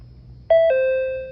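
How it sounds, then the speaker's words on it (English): A two-note electronic doorbell chime from a door intercom station rings out clearly, a short higher tone dropping to a longer lower one that fades slowly. "It does that doorbell sound, and now you're talking straight to the door intercom."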